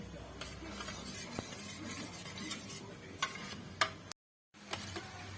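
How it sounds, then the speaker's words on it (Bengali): A homemade neem-leaf soap mixture bubbles in a pot, a soft crackling simmer with scattered ticks and clinks, then a brief dead gap before the faint bubbling resumes. "তো বন্ধুরা দেখো, এটা আমাদের ফুটতে শুরু করেছে।"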